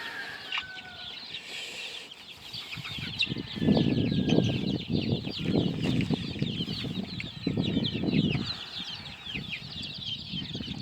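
Chickens, chicks and young meat birds in a backyard pen cluck and chirp continuously, with a dense layer of high peeping over louder, closer clucking bursts.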